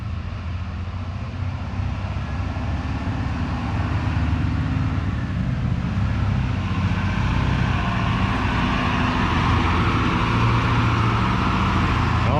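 A Ford F150 pickup, built as a sleeper, pulls out of a garage with a steady, loud engine rumble that holds for the whole stretch, with no talking.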